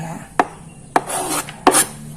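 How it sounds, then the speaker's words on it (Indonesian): Knife cutting through dough for Manado biji-biji garam Christmas cookies on a board, three sharp close chops at irregular intervals, with soft scraping between them. "Pokoknya kita potong-potong aja kayak gini ya"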